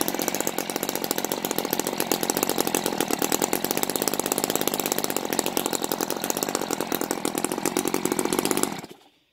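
A Moki 180 inline twin model engine converted to gasoline with CH ignition runs at a steady, rapid buzzing rate, loud and close, for about nine seconds before cutting out abruptly at the end.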